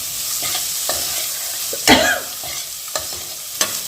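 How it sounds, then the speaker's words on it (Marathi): Chana dal roasts dry in a pan while a spoon stirs it, a scraping rattle over a faint steady hiss, with a handful of spaced taps and one louder stirring sweep. "हरभरीची डाळ पण एकच मिनिट भाजून घेऊया"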